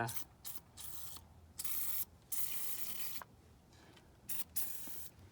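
Penetrating oil sprayed in short bursts onto rusty parts of a 1990 Jeep YJ, close hissy spritzes repeated several times with brief gaps and faint mechanical clicks between them.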